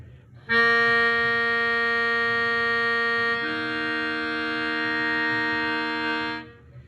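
A steady, reedy melodica drone is held for about six seconds; partway through the pitch steps as a second note comes in, then it stops cleanly.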